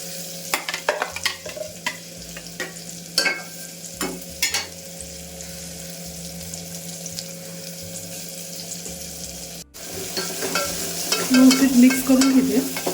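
Ground masala paste hits hot oil in a home kitchen pan, with scattered clinks and scraping of a utensil before a louder burst of sizzling near the end, close and clear with no talking.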